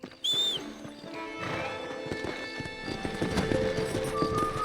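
In Red Dead Redemption 2, a horse's hooves clip-clop in a quickening gallop, opening with a short whinny; the pounding is moderately loud and continuous with no voices over it.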